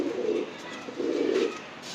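Pigeons coo in two low, rolling bursts close by, separated by a short pause, over a steady background hiss.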